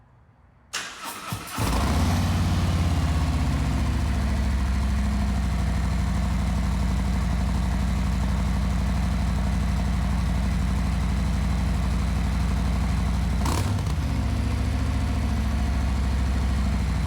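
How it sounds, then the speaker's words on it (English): A motorcycle fitted with Tab Performance 50 caliber slip-on exhausts cold-starts after a brief crank, then settles into a loud, steady, throaty idle with one short blip near the end, close by and without speech. "Here's going to be the first start, the cold start of the new Tab Performance 50 caliber"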